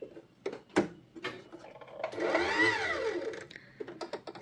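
Usha Allure DLX sewing machine running a straight stitch on a lining fabric piece, a steady whirring mechanical burst of about a second and a half that rises and falls in speed, with faint clicks and handling before and after.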